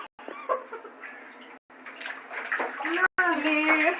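Water sloshes and splashes in a bathtub as a cat swims, with a steady wet churn through most of the stretch and people talking over it.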